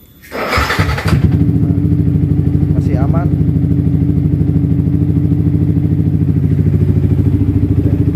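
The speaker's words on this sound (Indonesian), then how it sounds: "Mesin juga masih halus ya teman-teman ya, nggak kasar." A Yamaha R15 V3 motorcycle engine, five years in use, starts with a clattering crank, then idles steadily and evenly up close, with a brief spoken remark over the rumble.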